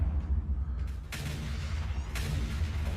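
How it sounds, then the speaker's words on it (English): Artillery in Factorio fires at enemy targets, low booming shots with sharp bursts about a second apart over a continuous deep rumble, loud and unaccompanied by talk. "Artillery's picking target after target after target after target."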